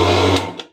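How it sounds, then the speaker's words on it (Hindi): An electric grinder runs on cashews ground for kaju katli. A short, loud motor whir winds down and stops. "इसको हम पीसेंगे फिर रोकेंगे, पीसेंगे फिर रोकेंगे"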